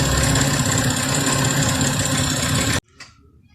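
Loud, steady engine idle with a rapid ticking from an exhaust leak at the back of the left-hand exhaust manifold, running close and continuous before cutting off sharply to near silence.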